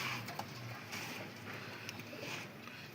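Pigeons coo softly in a loft, low and somewhat distant, under a steady background hiss, with no talking.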